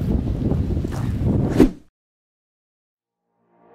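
Strong wind buffets the microphone outdoors, a loud rough gusting roar that cuts off abruptly after a couple of seconds, leaving near silence.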